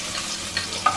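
Chopped shallots sizzling in hot cooking oil in a pan, a steady crackling fry with a couple of brief scraping stir sounds, close and clear with no talking.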